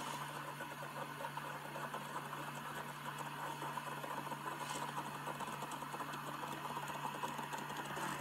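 A DeLonghi espresso machine's steam wand froths milk for a vanilla latte, giving a steady, continuous hiss with a faint underlying hum that holds evenly throughout, with no talking.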